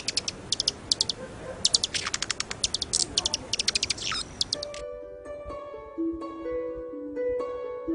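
Small birds chirp in quick bursts of high tweets for several seconds. The chirping then gives way to sustained tonal notes that sound like music.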